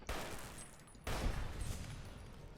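A turret fires in Fallout New Vegas, two dense bursts of rapid automatic gunfire separated by a short gap, loud and harsh with no voices.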